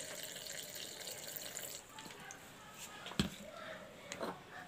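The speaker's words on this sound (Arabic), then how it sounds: "كنزيدو نص كاس ديال الماء" Water pours into a glass, half a glass' worth, as a faint, trickling splash with a few small knocks. A voice murmurs quietly in the background.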